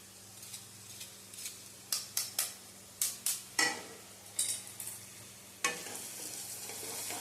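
Freshly grated ginger is sautéed and stirred in a pan, with a soft sizzle under a series of sharp clinks and scrapes of a spatula against the metal, fairly close and without talking.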